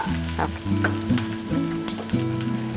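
Curry leaves hit hot oil with sautéed garlic in a pan for prawn pakoda, crackling in a loud steady sizzle with a few sharper pops, over a faint humming tone.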